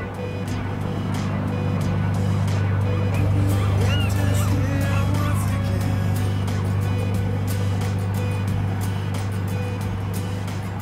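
An overland vehicle rolls onto a ferry while queued to load for a five-hour crossing on Chile's Carretera Austral. A steady, loud low engine drone runs throughout, with scattered clanks and knocks on top and no talk.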